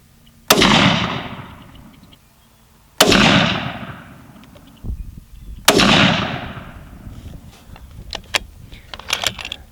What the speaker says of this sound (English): let's try for a 5-shot group and see what shakes out